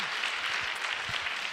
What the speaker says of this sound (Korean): 좋으면 박수 한번 해봐.